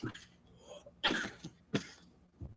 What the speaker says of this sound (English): We do trademark this cough, by the way, just so you guys know.